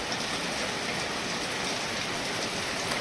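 Steady rain pouring down in Bali, a dense, even hiss of drops on surfaces close around, unbroken and without voices for a few seconds.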